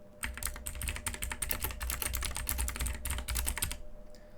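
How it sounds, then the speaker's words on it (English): Rapid keystrokes tap on a computer keyboard in a quick, continuous burst, close and clear, ending in a brief pause with no voices. "The next thing I'll do is go into my Google search and type up Google Maps."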